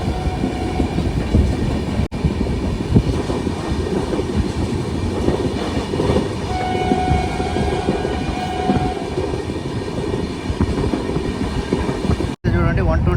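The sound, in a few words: train running on rails, Tirupati to Vijayawada express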